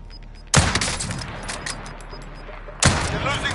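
Sniper rifle gunfire in a video game, two sharp loud shots separated by about two seconds, each with a ringing tail over background game noise.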